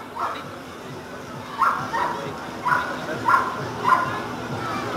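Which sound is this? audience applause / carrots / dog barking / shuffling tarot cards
dog barking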